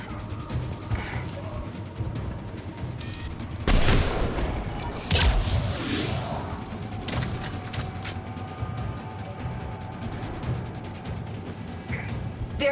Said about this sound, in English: Enemies with guns.